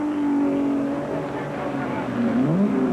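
Ferrari race cars pulling into the pits at the 1964 Sebring 12 Hours, engines droning at moderate distance with a shifting pitch that dips and rises as they slow, under a voice talking over them.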